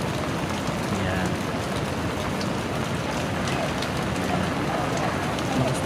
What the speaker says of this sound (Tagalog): Lakas talaga ng ulan, guys.